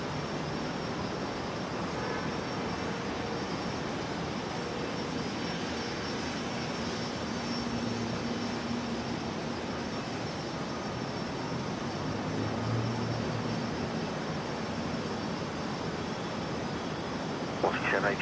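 An airliner takes off from runway 01 right at Brisbane Airport, its engine roar a steady, fairly distant rumble that holds throughout under faint background voices.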